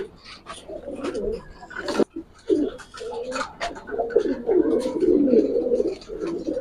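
Racer pigeons coo in low, throaty bursts on a farm, the calls near and continuous with brief pauses, while faint background noise runs underneath.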